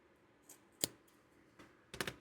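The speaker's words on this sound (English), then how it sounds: "Give this a little snippy snip." A few sharp scissor snips through crochet yarn while finishing a heart keychain, two separate cuts with a quick double snip at the end, close and quiet with no talking.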